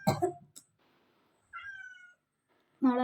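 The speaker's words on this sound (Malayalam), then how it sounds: "തള്ള പൂച്ചയാണ്" A mother cat meows a few times close by, with short cries separated by quiet pauses and a longer, drawn-out meow near the middle.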